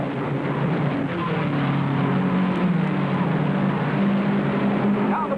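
Race cars at the 1958 Indianapolis 500 drone past in a continuous engine rumble, a sustained mid-level roar with faint pitch shifts, heard from a distance on old film sound.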